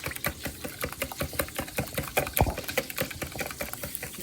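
Eggs are whisked briskly in a bowl for an omelette, a fast run of small clicking and sloshing strokes that continues throughout, with no voices.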